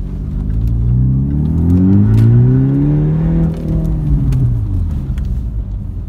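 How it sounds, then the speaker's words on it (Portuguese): A Jaguar E-Pace fitted with a sport exhaust accelerates in traffic, its deep, loud engine roar rising in pitch through a sustained pull over about six seconds, with no voices. "dá pra ver a diferença com o ronco esportivo e o ronco original de fábrica"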